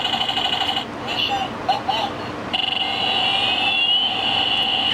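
A cheap toy fighter plane plays its built-in electronic sound effects, a steady synthetic jet whine with high tones and brief chirps that carries on for several seconds.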